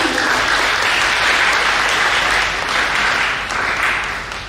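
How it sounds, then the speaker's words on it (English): An audience applauds at a Planetary Liberation Day gathering, with dense, steady clapping from many hands that fades slightly at the end. "Please clap for him."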